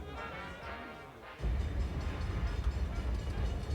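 A passenger train travels along the track with a steady rumbling roll. The rumble deepens and grows louder partway through, then holds as a continuous, dense rail noise.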